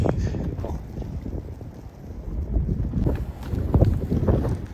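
Strong gusting wind buffeting the microphone on a snowy, icy Jura mountain pass at Col du Marchairuz, low rumbling bursts that rise and fall in waves, close and loud.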